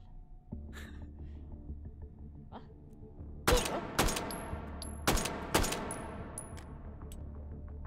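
Gunfire rings out in the VR shooting game Hot Dogs, Horseshoes & Hand Grenades, several sharp loud shots with ringing tails, some in quick pairs, over a low steady hum.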